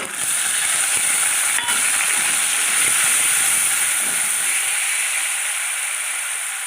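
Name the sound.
onion paste added to hot oil, sizzling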